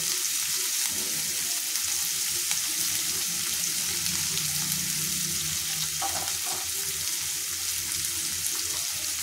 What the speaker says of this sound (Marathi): आता हे सगळं भाजून घेऊया।